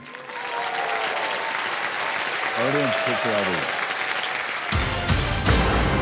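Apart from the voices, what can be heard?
studio audience applause on a TV quiz show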